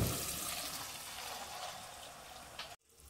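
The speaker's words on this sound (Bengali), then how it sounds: "তো এবার সিদ্ধ করা ডালটা দিয়ে দেবো।" Boiled masoor lentil dal poured into a pan with fried tomato, a soft continuous liquid splash and sizzle that fades out, ending with a quick clunk and near silence.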